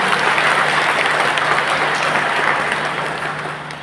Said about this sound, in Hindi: तालियां बजा के फादर को धन्यवाद.